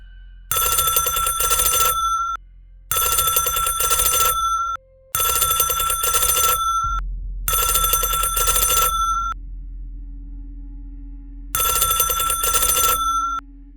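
A loud mechanical bell on an old telephone rings in four long bursts, pauses with a faint hum, then rings once more, close and harsh.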